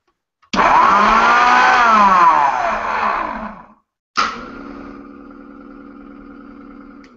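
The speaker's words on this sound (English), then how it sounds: "This is a 2 horsepower blender." A 2 horsepower blender roars loudly up close, its motor pitch rising then sagging for about three seconds, cutting out, then restarting with a sharp surge into a steadier, quieter whir.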